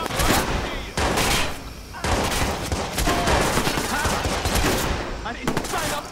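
Dense, continuous gunfire during a prison break in the video game Watch Dogs, with rapid automatic bursts and overlapping shots close by, broken by brief pauses, while shouting voices can be heard under the shooting.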